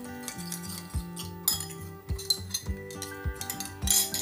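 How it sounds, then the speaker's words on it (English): Utensils clink and scrape against a bowl while a vegetable salad is tossed, making a quick run of close metallic taps and rubbing strokes, with no voices. "Mix it together."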